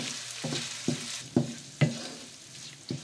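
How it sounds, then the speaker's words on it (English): Onions sautéed with salt sizzle softly in a pan while a spatula scrapes through them in about five separate strokes, near and moderately loud. "And now let's continue sauteing them."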